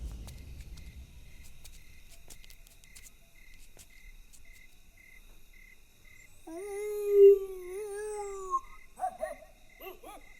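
Against a steady night backdrop of chirping crickets, a man imitates a dog with a howling, wavering call, followed by a few short bark-like yelps. The voice is moderately loud and close.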